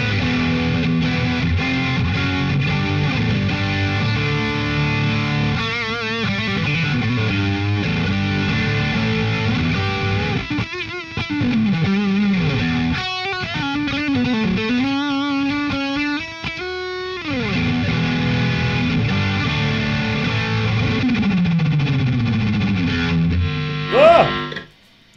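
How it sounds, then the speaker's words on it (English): Electric guitar with a single P90 pickup runs through distortion and effects, sustained overdriven chords and bends with a noisy hum underneath, loud and close, cutting off with a brief squeal at the end. "that is quite noisy, but then that's nothing less than you'd expect from a P90, it's a single P90"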